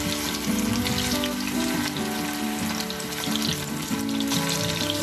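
Cauliflower pieces for Gobi 65 frying in hot oil, a loud, steady, dense sizzle with a constant crackling hiss that runs without a break, close up and with no talk.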